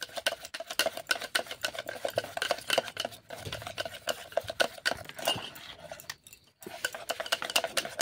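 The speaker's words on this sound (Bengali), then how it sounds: "এরপর ভালো করে ফেটিয়ে মিশিয়ে নিচ্ছি" Milk cake batter with food colouring being beaten and mixed in a bowl, a fast continuous rhythmic clatter of utensil against bowl with a brief pause near the end.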